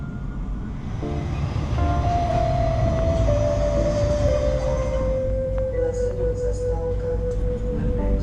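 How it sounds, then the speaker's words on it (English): A tram rides through Bratislava, its interior filled with steady rumbling and rattling, while a thin whine or squeal from the wheels and motor slowly drops in pitch, loud and continuous. "there's an extensive network of trams pulsing through Bratislava."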